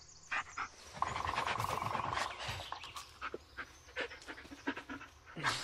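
A dog in the Blair Witch video game pants steadily and rapidly for a few seconds, near and moderately loud, followed by scattered soft rustles and clicks with no talk.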